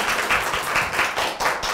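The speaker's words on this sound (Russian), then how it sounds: "давайте поблагодарим нашего гостя аплодисментами" An audience at a talk event applauds a guest. The clapping is brisk and closely packed, with a light pulsing rhythm, and it runs steadily through the short moment without any speech.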